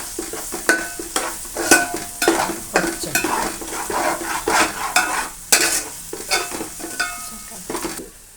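Ridge gourd curd chutney mixture (potlakaya perugu pachadi) being stirred in a pan, with repeated scraping and sloshing strokes in an uneven rhythm, close and fairly loud, with no talking.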